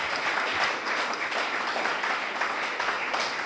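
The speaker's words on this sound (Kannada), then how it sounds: "ಚಪ್ಪಾಳೆ ತಟ್ಟಿ ಅವರಿಗೆ ಅಭಿನಂದನೆಗಳನ್ನು ಸಲ್ಲಿಸುತ್ತೇನೆ" Schoolchildren applaud together at a high school zonal-level event, a dense, steady wash of many hands clapping that holds evenly throughout with no voices standing out.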